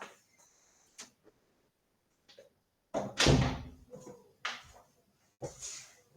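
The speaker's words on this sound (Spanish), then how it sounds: "voy a cerrar la puerta" An indoor door is pushed shut, with a few light taps and handling knocks followed by a couple of louder thuds and rattles as it closes, close to the microphone.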